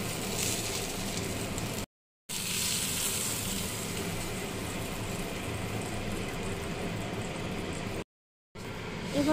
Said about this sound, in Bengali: এবার সেই ভাজা তেলে দিয়ে দিলাম সর্ষে আর কাঁচা লঙ্কা ফোড়ন